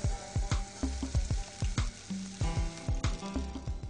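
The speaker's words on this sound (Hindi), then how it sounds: "अब जैसे लहसुन फ्राई हो रही है" Garlic and peanuts fry in a pan, a crackling sizzle broken by regular thudding stirs or tosses roughly every half second, close and steady throughout with no voices.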